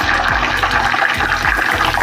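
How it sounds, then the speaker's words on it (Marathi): Water splashed into hot buffalo ghee simmering on a gas stove crackles and hisses loudly in short repeated bursts, close up, with no talk. "पाण्याचा हात मारून घेते आता इथं"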